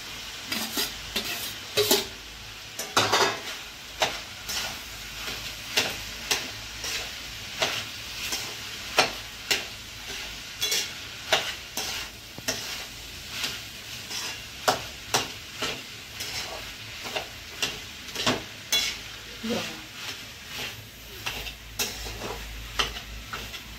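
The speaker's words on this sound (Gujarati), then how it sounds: "હવે આપણે આ બટેટા જે છે ને એ બટેટા બધા નાખી દઈશું આની અંદર" Potatoes tossed into a hot pan for a masala dosa filling sizzle steadily while a spoon stirs them with repeated scraping clicks and taps, close and moderately loud, with no talking.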